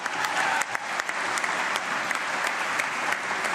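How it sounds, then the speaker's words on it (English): Applause from the audience at a state governor's State of the State address, a loud, dense crowd clapping with some individually distinct, sharp claps near the microphone, sustained evenly for several seconds with no speech. "I'm clapping on that one."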